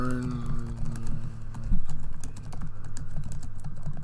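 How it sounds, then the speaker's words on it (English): Rapid clicking on a computer keyboard, a quick irregular patter of keystrokes, close and fairly quiet, running under a low hum during a card game. "What are you typing?"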